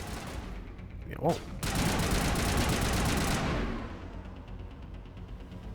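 Gunfire in the Mass Effect video game, a loud, dense burst of shots lasting about two seconds amid game noise, with a voice speaking briefly just before.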